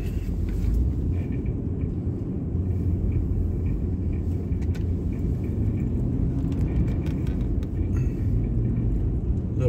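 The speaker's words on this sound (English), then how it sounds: "Let's take a little winter ride to the simulator." Steady low rumble of a car driving on a snowy winter road at around 10 degrees, constant engine and road noise heard from inside the vehicle, with no talking.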